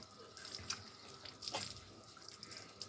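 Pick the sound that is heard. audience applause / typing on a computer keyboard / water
water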